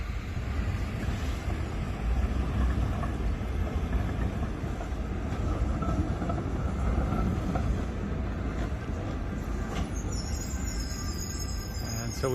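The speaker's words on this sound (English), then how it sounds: "For my friends that like trams, there's a tram for you." A tram rolls through a Vienna street with a steady, heavy rumble and broad mechanical roar, and a thin metallic squeal rises near the end.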